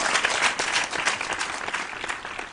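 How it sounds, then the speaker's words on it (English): A short round of applause from a school quiz audience after a correct answer, brisk crowd clapping with distinct hand claps, fairly loud and fading at the close. "A round of applause to you"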